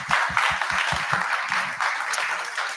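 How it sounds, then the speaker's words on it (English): Brief audience applause at a tech meetup, moderately loud and fairly close, with a few distinct claps early on blending into a steady patter that continues to the end. "A round of applause for Matt."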